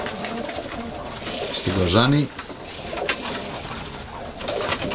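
Pigeons coo at a pigeon loft in Kozani, Greece: a clear, close warbling coo rises midway, with faint bird calls around it and someone speaking over part of it.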